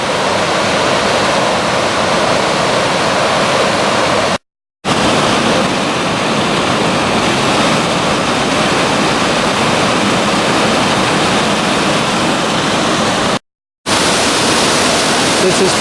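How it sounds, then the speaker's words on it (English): Waterfall just below Pierce Pond on the Appalachian Trail in Maine, a loud, dense, constant roar of falling water heard close up, broken by two brief cuts of silence. "Another waterfall."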